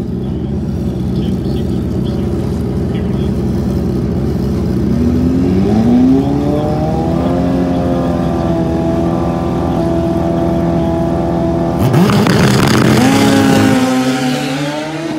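Pro ET drag race cars roar loudly and continuously nearby, engines climbing in pitch as they accelerate, with another car's rising whine cutting in near the end.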